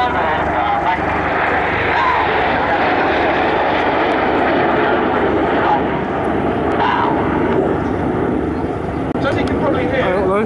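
Aircraft engine noise at the Cosford air show, a broad continuous roar holding steady and loud across the whole stretch, with an announcer's voice running faintly beneath it.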